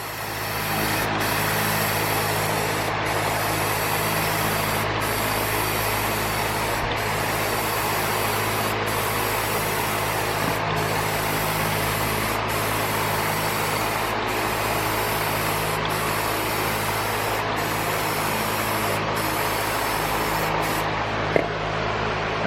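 A Rust-Oleum primer can fitted with a trigger handle sprays steadily onto a widebody IS300 drift car, a continuous close hiss broken by short regular pauses roughly every two seconds, with no talking.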